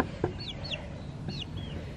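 A hen sheltering seven chicks under her wings gives soft clucks, while high thin chick peeps rise and fall in short sliding chirps over quiet background.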